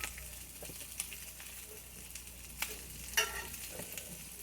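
Bacon cooking in water in a pan on a stovetop, giving a quiet, steady sizzle with faint pops and a few sharper crackles, including one louder spatter near the end; no one talks.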